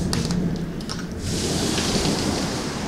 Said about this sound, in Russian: Ой, гром грохочет.